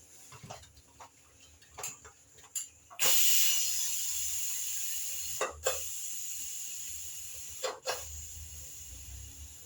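Cooking oil, about two spoonfuls, sizzling in a pan for vegetable daliya: a sudden steady hiss begins about three seconds in and continues, with a few sharp clicks and taps around it and no talk.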